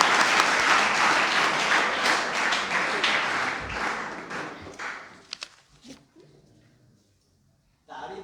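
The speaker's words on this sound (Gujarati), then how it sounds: "એને છે ને બહુ જ જોરથી તાળી આપજો" Audience applause for Dipti, a child at a children's book-talk event, starts as dense, steady clapping that thins after about five seconds into scattered claps and then near silence. A short burst returns at the very end.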